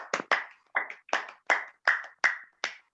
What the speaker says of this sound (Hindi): आप सभी से निवेदन है कि जो जोरदार तालियों से स्वागत करें अर्चना मैडम जी का